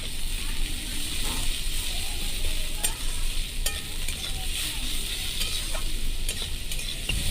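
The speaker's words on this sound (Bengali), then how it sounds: "এরপর ওতে আমি পরিমাণ মতো নুন দিয়ে দিলাম, দিয়ে ভালো করে নেড়ে নিচ্ছি।" Onions fry with salt in a pan for a meat curry, a steady close sizzle broken by repeated scraping stirs of a spoon against the pan.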